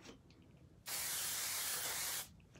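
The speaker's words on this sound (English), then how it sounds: "I love this Kenra Platinum 26. It's my favorite. Do you guys use this? Spray it." A blast of Kenra Platinum 26 hairspray from an aerosol can, a steady loud hiss lasting about a second and a half, close by and alone, while hair is styled into a high ponytail.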